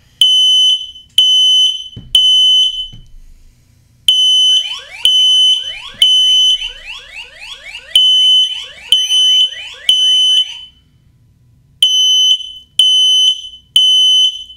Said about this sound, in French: Le détecteur de fumée marche bel et bien.